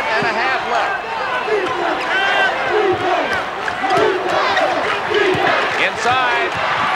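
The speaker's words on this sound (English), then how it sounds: "It's UCLA's turn to cheer." Arena crowd at the 1980 NCAA basketball championship game between Louisville and UCLA, roaring and cheering steadily for UCLA, a dense sustained wall of voices with shouts poking through, loud and close throughout.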